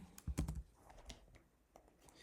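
Keys on a MacBook keyboard clicking softly and close, a quick cluster of taps followed by a few isolated presses in a quiet room.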